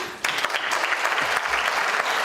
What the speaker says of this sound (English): greeted by thunderous applause from colleagues